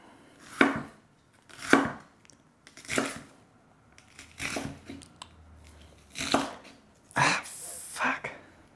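An onion diced with a knife on a cutting board gives about seven distinct, close chopping thuds at uneven intervals, each a crisp knock against the board, with quiet gaps between.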